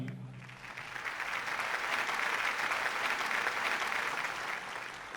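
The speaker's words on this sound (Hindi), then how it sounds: "इसलिए तालियां मेरे ख्याल में और जोरदार होनी चाहिए उनके लिए" Sustained audience applause at a mushaira and kavi sammelan award ceremony in Dubai, a full, even roar of many hands clapping that rises and holds, heard alone without speech.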